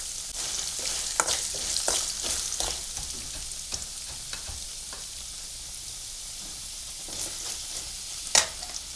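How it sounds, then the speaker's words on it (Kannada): Raw potato pieces fry in a pan with a steady, soft sizzle, broken by occasional stirring scrapes and a few sharper pops. "ಹಸಿ ಆಲೂಗಡ್ಡೆ ಕಟ್ ಮಾಡ್ಕೊಂಡೇನಲ್ರಿ ಇದು ಅದಕ್ಕೆ ಎಲ್ಲ ಚೆನ್ನಾಗಿ ಫ್ರೈ ಮಾಡ್ಕೋಬೇಕು"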